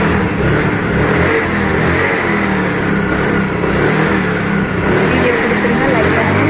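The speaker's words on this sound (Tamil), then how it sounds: "இப்போ வண்டியை ஸ்டார்ட் பண்ணி பார்க்கலாம்." A Honda Dio scooter engine, just reassembled after a clutch oil leak repair, runs loud and close with steady revving that holds throughout and never drops to idle.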